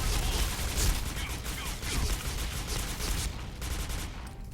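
Rapid gunfire from the online shooter game SC2010, its Christmas 2015 weapon skin, dense bursts of automatic shots and effects filling the whole stretch at steady loudness, fading slightly toward the end.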